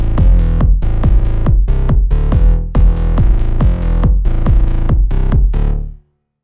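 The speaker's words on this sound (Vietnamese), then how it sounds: "nếu mà khi chúng ta không áp dụng nó thì kick của các bạn sẽ nghe như thế này." Kick drum and bass in FL Studio without sidechain, loud repeating kick hits layered over a constant booming bass that stays full between beats, clean and alone for about six seconds.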